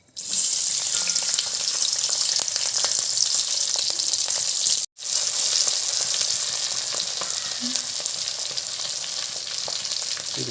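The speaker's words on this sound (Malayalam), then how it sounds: "എണ്ണയൊക്കെ നന്നായിട്ട് ചൂടായിട്ടുണ്ട്. ഇതിനകത്തേക്ക് നമുക്ക് ഇഞ്ചിയും പച്ചമുളകും വെളുത്തുള്ളിയും കൂടി ഇടാം." Ginger, green chili and garlic dropped into hot sunflower oil crackle and sizzle loudly and without a break, cut off by one brief silent gap partway through.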